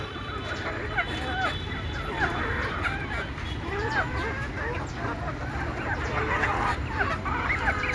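A flock of native Bangladeshi chickens clucking and chattering continuously at moderate distance, steady overlapping calls against a constant background hiss of rain.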